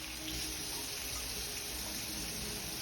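Tap water runs steadily into a sink as canned black beans are rinsed, a continuous close hiss and splash with no pauses throughout.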